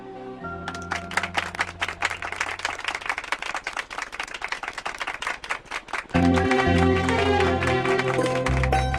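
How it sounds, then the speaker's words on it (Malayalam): Audience clapping hands in steady, dense applause that fills the first six seconds, then gives way to loud music. "നമുക്ക് ഇവരെ ഒന്ന് കൈയടിച്ച് പ്രോത്സാഹിപ്പിച്ചാലോ?"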